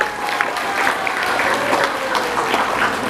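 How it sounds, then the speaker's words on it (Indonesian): An audience at an Islamic boarding school event applauds the girls' student council, OSPI Putri. Steady, dense clapping fills the hall for the whole stretch, with a faint ringing tone running underneath. "Tepuk tangan untuk OSPI Putri."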